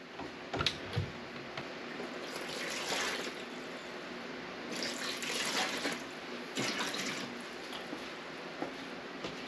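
Water poured for homemade chocolate elderberry ice cream in a Ninja Creami, a steady splashing fill with a few bursts of stronger gushing, close and moderately loud with no talk.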